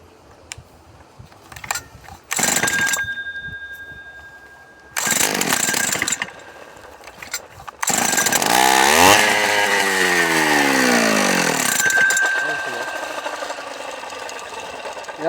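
Stihl FS 500 brushcutter with a faulty carburettor, the engine firing in short bursts and cutting out, then roaring up and surging unevenly with wavering revs.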